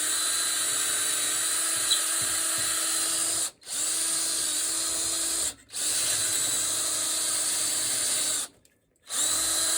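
A power drill bores into a shovel handle shaft with a wood, PVC and metal bit, whining steadily near and loud in three long bursts separated by short pauses, with no talk.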